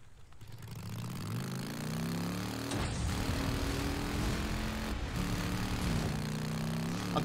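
Motorcycle engine in the video game Days Gone, a steady mid-pitched drone with rising and falling rev tones and gear-shift steps, loud and continuous throughout with no speech.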